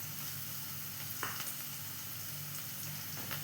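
Onion sautéing with turmeric in a pan for idli upma, a soft continuous sizzle with faint stirring scrapes, fairly quiet and with no voices.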